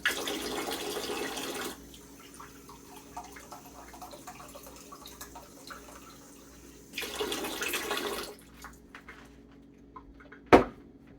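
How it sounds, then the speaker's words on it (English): Water runs from a sink tap in two bursts with quieter gaps between, ending with a single sharp clink. "we're going to take some water from the sink"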